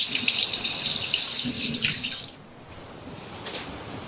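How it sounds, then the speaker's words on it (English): Hands being washed under a running kitchen tap, a close splashing gush of water with rubbing and brief bursts before the flow is shut off and a quieter room tone remains. "let me give you a closer look as I wash my hands"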